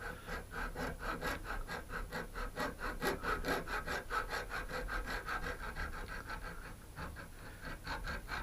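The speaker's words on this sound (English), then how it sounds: "what I need to do is to put this golf ball into the vise and hold it tight, and then gradually cut round" A hacksaw cuts into a golf ball clamped in a vise, giving steady rhythmic back-and-forth rasping strokes that continue close and clear without pause, with no talking.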